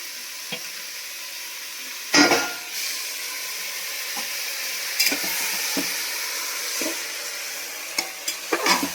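Marinated chicken frying in a pressure cooker with onions is stirred, giving a steady sizzle with several sharp scrapes and clanks of the spoon against the pot, the loudest near the start and a quick cluster of knocks toward the end.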